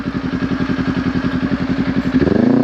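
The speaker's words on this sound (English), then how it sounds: "I'm gonna shift into third gear, and I'm just gonna do it nice and smooth." Kawasaki Ninja 400 motorcycle engine pulsing steadily up close as the rider shifts into third gear, the rhythm briefly changing and the pitch rising smoothly near the end.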